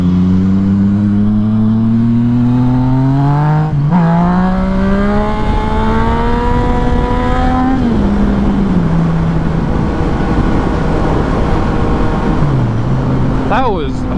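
A loud engine revs and accelerates during a wheelie, its pitch climbing in stages and then dropping back, with a steady roar throughout and a brief sharp rise near the end.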